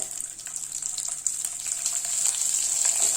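Fennel seeds and small onions fry in a pan, giving a steady, close sizzling hiss that grows slightly louder toward the end, with no voices.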